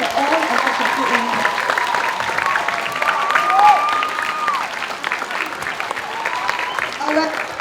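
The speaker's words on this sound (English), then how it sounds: "shall we give her a very big round of applause for all the efforts she put in?" Applause from primary school students at a career guidance program at Zhenghua Primary School: a dense, steady wash of clapping filling the hall, with young voices calling out over it.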